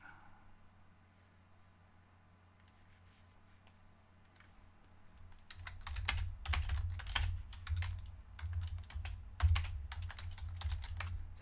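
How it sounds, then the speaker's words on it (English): Computer keyboard typed on hard in fast, loud bursts of clacking keystrokes, close by and alone, following a quiet lead-in. "That's why I typed that hard,"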